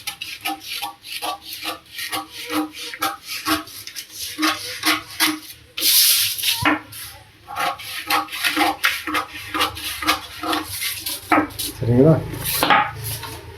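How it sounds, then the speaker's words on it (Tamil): Scissors cutting through blouse fabric along a curve, a rhythmic series of crisp snips repeating close by, with a louder rustle and handling noise partway through. "இந்த வளைவு கட் பண்ணும்போது நல்லா பார்த்து கவனமாக கட் பண்ணணும்"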